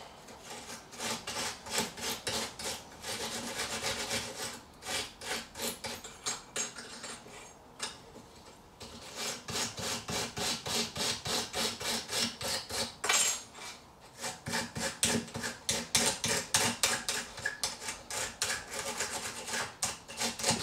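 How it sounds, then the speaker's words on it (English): Wire brush scrubbing the rear brake parts of a 2010 Kia Sportage 2.0 petrol, a close, rapid, rhythmic rasping in bursts of back-and-forth strokes with short pauses between them. "as long as you've got a wire brush and something available to give it a good clean up"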